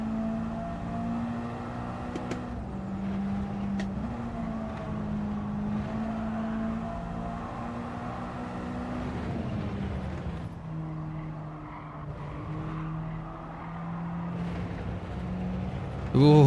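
A race car engine in a racing game time trial drones steadily, its pitch rising and dipping through corners, moderately loud and continuous under occasional talk.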